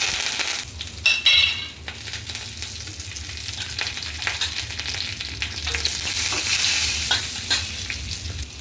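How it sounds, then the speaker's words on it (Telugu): Mustard seeds, cumin, chana dal, urad dal, garlic and curry leaves crackle and sizzle steadily in hot oil as a tempering, with a few sharp pops and stirring scrapes throughout, close and fairly loud. "పోపు వేగింది"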